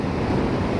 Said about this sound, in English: there's some big crashing waves just in front of me